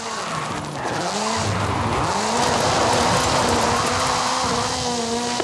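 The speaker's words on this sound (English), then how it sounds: "This is Mr. Kenneth Block's Hoonigan Gymkhana 10 Ford Focus RS RX. 2-litre, turbocharged, front-mounted engine and all-wheel drive." A Hoonigan Gymkhana 10 Ford Focus RS RX with a 2-litre turbocharged front-mounted engine and all-wheel drive drifts in a racing game, its engine droning loud and steady throughout under continuous squealing tyres.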